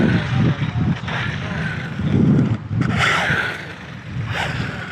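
An MJX 14303 Citroën RC rally car runs at full throttle outdoors, its whiny electric motor surging and fading in waves over wind and tyre scrub, loud and close with no speech.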